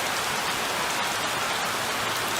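Heavy rain falling hard in Jamaica, a dense, steady hiss of drops drumming on surfaces that fills the short stretch evenly and loudly, with no voices over it.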